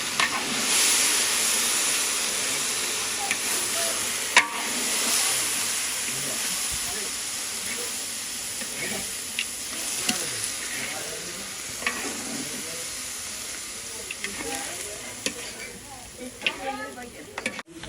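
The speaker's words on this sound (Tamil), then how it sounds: "எண்ணெயிலே நல்லா தாளித்து" Mutton sizzles and fries in hot oil in a pan while being stirred, with steady crackling and a few sharp utensil scrapes and clicks close by, and no talking.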